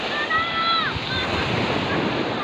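Sea waves washing onto a sandy beach at a resort, a broad steady surf wash with wind buffeting the microphone and a few faint high whistling tones early on.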